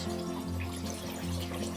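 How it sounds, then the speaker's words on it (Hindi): About a quarter cup of water goes into lauki (bottle gourd) sabzi cooking in a pan, with a continuous close splashing pour and sizzle that lasts the whole moment. "अब आपने इसमें तकरीबन 1/4 कप पानी डालना है"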